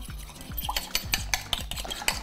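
A spoon stirs egg yolk into grouse soup in a pot, with steady rhythmic scraping strokes against the metal, repeating about every fifth of a second, close and clear with no voices.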